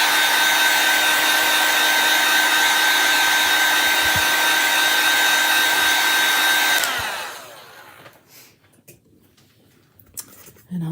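A hair dryer blows loud and steady for about seven seconds while drying chalk paste on a craft piece, then cuts off and winds down, leaving faint rustling and handling noises.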